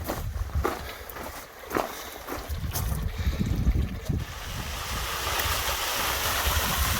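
A small, slow-flowing sulfur-yellow stream beside the Cascada de Colores waterfall in Barranco de las Angustias, La Palma, gives a steady broadband wash that swells after a few footsteps, with wind buffeting the microphone.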